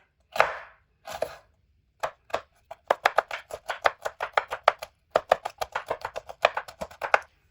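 Green chilies are chopped with a knife on a board: a few slow separate cuts, then a fast rhythmic run of sharp, close, crisp knocks with brief pauses.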